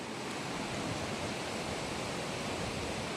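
A flooded river rushes in a broad, dense, steady roar close by, with no voices over it.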